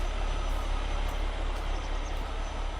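A Kenworth truck engine in the farming video game Green Valley runs with a steady, loud diesel rumble and drone, an unbroken mechanical noise with no talking over it.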